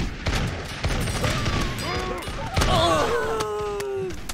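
Gunfire in the battle game TABS crackles as a rapid run of sharp shots, loud and close, with tonal voice-like cries rising over the later bursts.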